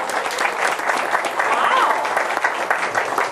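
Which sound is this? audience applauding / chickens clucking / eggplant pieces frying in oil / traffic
audience applauding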